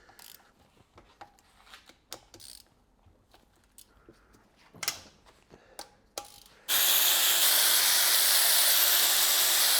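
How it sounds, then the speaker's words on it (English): Work on a BMW engine head to remove the camshafts brings scattered close metallic clicks and ratchet-like ticks, followed abruptly by a loud, steady rushing hiss that holds to the end. "So now I'm thinking to remove the camshafts in order to see how all the valves are sealing."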